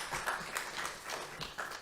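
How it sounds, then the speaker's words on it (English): A small workshop audience gives scattered, fairly quiet applause to welcome a speaker, with separate claps coming in loose bursts rather than a full ovation. "with a round of applause, let's also welcome Dr. Joe Tucker online to give us a word"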